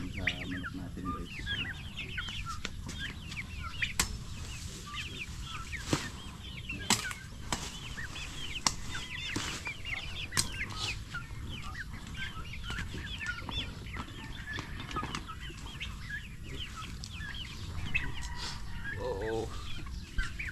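Chickens clucking and scratching around nearby, with occasional wing flaps and a rooster-like call over steady outdoor background noise.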